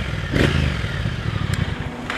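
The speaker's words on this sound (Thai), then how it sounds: "ลองเครื่องยนต์ครับ ไม่มีสะดุดเลยครับ" A 2020 Triumph Speed Twin 1200 motorcycle engine revs up and drops back quickly, a steady close, loud rumble with a sharp rise near the start and no talk over it.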